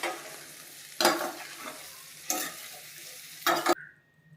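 Masala rava vada mixture stirred and mixed in a pan, with three loud scraping sweeps over a soft sizzle, stopping abruptly near the end.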